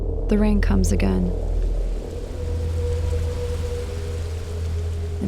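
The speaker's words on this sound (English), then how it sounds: "The rain comes again." Steady rain in an animated horror film, a continuous wash of downpour with low rumbling beneath, while a voice speaks briefly over it at the start.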